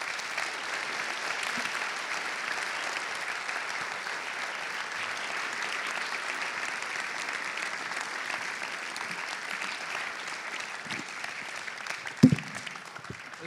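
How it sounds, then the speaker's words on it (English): Audience applause welcomes a speaker onto the stage at a live philosophy-theatre talk event, a steady, dense clapping that holds evenly throughout from a moderately distant crowd, with one sharp louder knock near the end. "Maybe you can invite him with a big applause."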